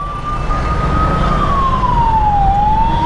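A National Ambulance Service 108 ambulance siren wails loud and close in road traffic, one steady rising and falling tone over engine rumble.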